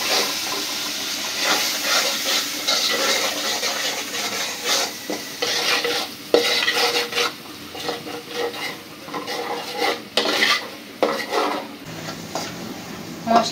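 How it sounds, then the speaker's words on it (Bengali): Spice paste with salt, ginger and garlic frying in a pan as it is stirred, producing a continuous crackling sizzle with repeated scraping and clattering strokes, near and fairly loud. "এখন মশলাটা কষাই নিব।"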